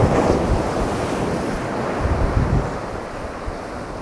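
Waves crash and surf rolls steadily onto a beach on the east coast of England at Hornsea, with strong wind buffeting the microphone throughout, loud and continuous with a few heavier surges.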